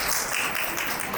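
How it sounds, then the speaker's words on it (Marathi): Guests at a first birthday party clapping together, a dense, steady patter of many hands that fills the whole brief moment at close range. "टाळ्या वाजून"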